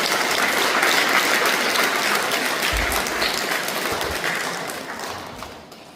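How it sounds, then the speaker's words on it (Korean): Big, steady applause fills a Won Buddhist temple Sunday service hall in Wonnam, dense clapping from the congregation holding loud for several seconds before slowly tapering off at the end. "다시 한번 큰 박수 부탁드립니다"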